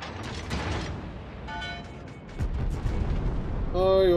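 Warship gunfire in World of Warships, heavy low booms rolling under a busy game mix with a German-speaking streamer's voice on top and a brief tonal chime near the end.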